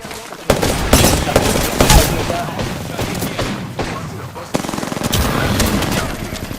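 Loud, sustained automatic gunfire in the Apex Legends video game, rapid continuous bursts with a few heavier thumps, close and dominant throughout.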